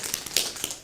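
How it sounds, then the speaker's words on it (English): Rapid hand taps on a drum played as a drum roll during a yoga class, a quiet, steady patter of light strikes with a couple of slightly stronger hits, no voices. "Then the drum roll."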